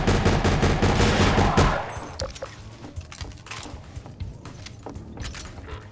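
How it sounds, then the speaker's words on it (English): A grease gun fires a loud full-auto burst in the SMOD Half-Life 2 mod, followed by fainter scattered shots, clinks and mechanical clatter. "Another one you get very early on is just a grease gun."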